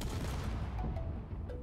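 A hydrogen tank exploding in the game Space Engineers: a dense, loud, rumbling blast that fills the whole short moment with deep crackling roar and no speech.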